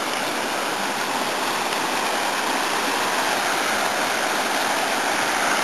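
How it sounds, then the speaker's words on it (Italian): A river rushes and spills over small waterfalls outdoors, a loud, steady, dense roar of flowing water that fills the whole stretch without any break or voices. "Solo che il problema è che adesso c'è il fiume."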